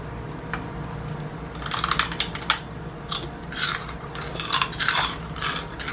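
Crunchy chicharon pork rinds being bitten and chewed up close, a run of sharp, brittle crackles and snaps starting after a quiet second and continuing in irregular bursts, with no talking.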